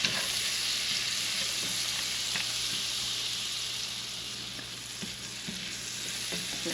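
Butter sizzling and frying in a hot pan in a kitchen, making a steady, dense crackling hiss that holds throughout, close up, with no talking.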